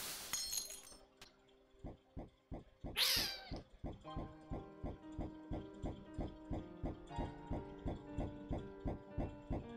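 Short cat meows from the video game Momodora: Reverie Under the Moonlight, with a burst of glassy breaking, over a steady rhythmic train of plucky game music beats with no talk.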